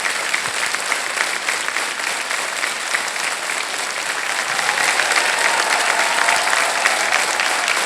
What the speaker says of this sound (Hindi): तालियां बजती रहे इनके लिए।